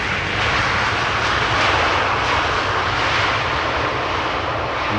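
A fixed-wing airliner arriving on Schiphol's Polderbaan runway roars steadily for several seconds, loud and near, with a broad engine rumble that swells slightly and then holds.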